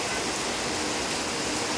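Steady heavy monsoon rain hisses close by, a dense continuous wash of falling water, loud and unbroken for a brief moment.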